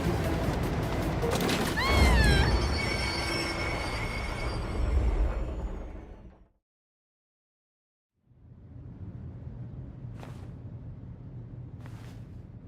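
Runaway train in the video game Persona 3 Reload rumbles loudly with metallic squeals and a rising whine, then cuts to silence before a lower, steadier rumble returns with a couple of sharp clanks.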